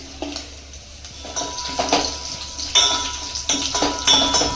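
Crushed garlic, curry leaves and dried red chillies sizzle in a couple of spoons of oil for a tempering, a low hiss broken by several sharp clinks and stirring scrapes of a spoon against the pan.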